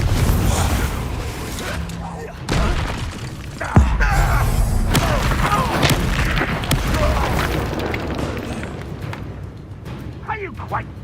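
Confringo fire spells blast again and again during combat in Hogwarts Legacy. Heavy booms and crackling bursts rise over a dense rumbling battle bed, with one sharp loud hit standing out. Voices speak now and then over the fight.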